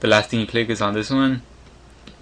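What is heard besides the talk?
No everyday noises stand out.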